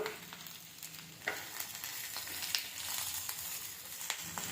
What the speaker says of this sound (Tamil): கீரை நல்லா எண்ணெயில் வறுபட்டுருச்சு